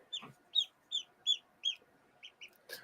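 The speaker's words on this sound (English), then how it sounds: "Oh, they do make a little squeaking noise." A small duck making little squeaking noises: about eight short, high peeps in a fairly even series, close and clear against a quiet background, with no speech.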